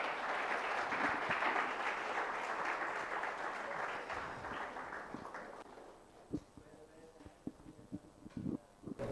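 An audience claps for a student project team at a Core2web Super-X event. The dense applause fades out over several seconds and gives way to scattered thumps and quiet room noise.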